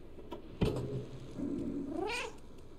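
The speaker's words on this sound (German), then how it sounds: "Wir haben 100 Mal miaut." A cat meows in the video game Stray, two short calls with the second a rising, drawn-out meow, close and clear over a quiet background.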